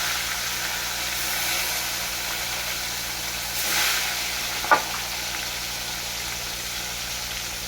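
Fish fries in hot oil with a steady, close hiss and crackle, swelling briefly and broken once by a single sharp utensil clink, with no voices.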